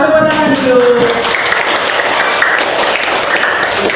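Classroom audience clapping at a teaching performance session, a steady dense patter of many hands that fills the whole stretch, with a voice speaking briefly at the start.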